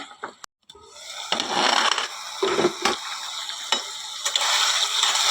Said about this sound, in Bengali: হ্যাঁ, মশলাটা কষাচ্ছে